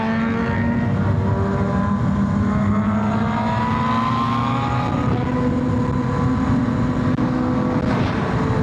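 Engines of a large group of motorcycles ride together on a highway, a continuous loud roar with overlapping rising and falling engine tones, alone without talk.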